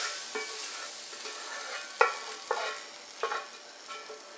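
Spaghetti sauce reduces in a pan with a soft, steady sizzle. Several louder scraping stirs from a utensil break in, close by and fairly quiet.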